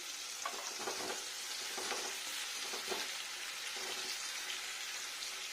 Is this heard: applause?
no